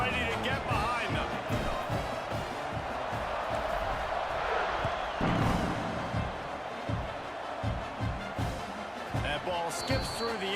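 A college football stadium crowd in a Sooners and Noles game roars steadily at kickoff, a dense, continuous wash of cheering that swells midway, with a commentator talking over it.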